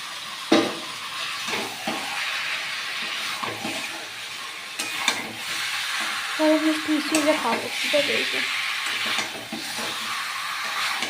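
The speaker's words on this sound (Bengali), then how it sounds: "এবার তাহলে আলু কটা দিয়ে কষিয়ে নেব।" Potatoes sauté in hot oil that has already separated from the masala, giving a steady moderate sizzle with scraping stirs and a few clatters throughout.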